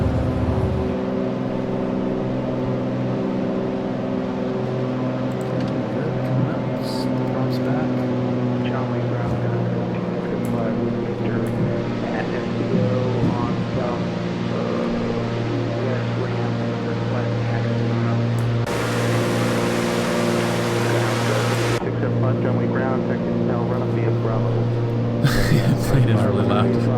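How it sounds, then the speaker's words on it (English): The Just Flight Arrow's propeller engine in the X-Plane 11 flight simulator drones loudly and steadily with a strong humming tone, while voices talk over it throughout. "Plane is really loud."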